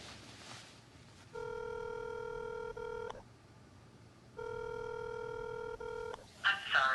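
A telephone call rings out on the line: two long electronic ringing tones separated by a pause of silence, with faint background sound at the end.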